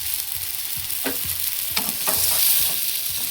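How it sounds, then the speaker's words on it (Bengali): A spatula stirs boiled potatoes with salt, turmeric and water in a pot, giving a few soft scraping and knocking strokes close up over a steady background hiss. "এবারে খুন্তি দিয়ে একটু নাড়িয়ে"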